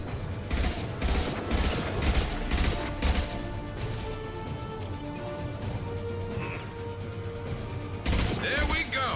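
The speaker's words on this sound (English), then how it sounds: "We're gonna switch to our assault rifle here." Loud bursts of automatic assault rifle fire in Mass Effect 2, several rapid volleys in quick succession at the start, a quieter stretch of game ambience and mechanical clicks, then another close burst near the end.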